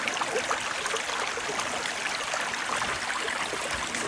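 A small mountain river in a Carpathian forest flows with a continuous, close, even rushing and babbling that holds steady throughout, with no voices.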